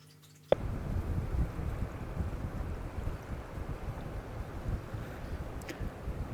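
Strong wind buffets the microphone on a small boat out on choppy, unsheltered water, a steady loud rumbling roar that starts abruptly and carries on with gusty swells.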